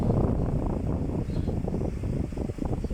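A modified Golden Eagle 10-inch floor fan blows strongly close to the microphone, making a loud, steady roar of rushing air that buffets the mic, with no talking.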